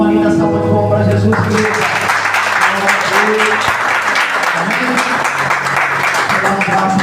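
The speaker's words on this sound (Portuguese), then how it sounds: "Uma linda salva de palmas para Jesus." A church congregation applauds for Jesus during a Sunday service, steady clapping filling the room for several seconds while a voice and musical tones sound beneath and a single spoken word cuts through.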